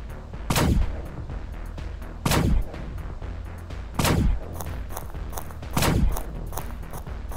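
Four heavy gunshots from the video game UFO Alien Invasion, fired singly at roughly even intervals about one and a half to two seconds apart, each loud with a booming tail over low background noise.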